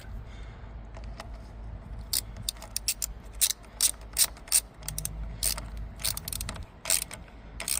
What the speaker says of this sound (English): Now I'm gonna just tighten up terminals.